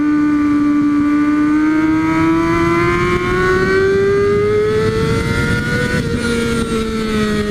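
A Kawasaki Ninja ZX-6R sport motorcycle engine revs loudly and steadily, its pitch climbing gradually as it accelerates, with no voices over it.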